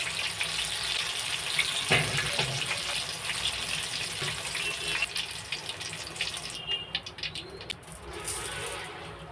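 Drumstick (moringa) pieces frying in oil for pickle, a steady close sizzle with light crackle throughout, no talking.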